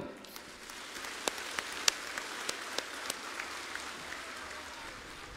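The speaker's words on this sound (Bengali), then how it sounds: "আমরা সবাই হাততালি দিয়ে ওনাকে স্বাগত জানাবো" Scattered crowd applause welcoming Suvendu Adhikari onto the stage at an outdoor political rally in Taldangra, faint and distant, with sparse sharp claps standing out over a steady rain-like patter.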